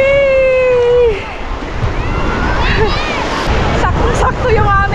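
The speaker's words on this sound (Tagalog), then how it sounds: "Ang alon!" Ocean waves wash in at a shallow beach in Sorsogon, Bicol, a steady broadband surf rush with wind noise on the microphone, while excited voices shout and cheer over it.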